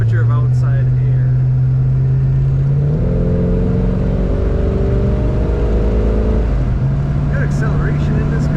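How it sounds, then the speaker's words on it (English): A 1940 Ford Standard two-door sedan accelerates from inside the cabin, its engine note holding steady, dipping at a gear change, then climbing again, loud and close. "Good acceleration in this car."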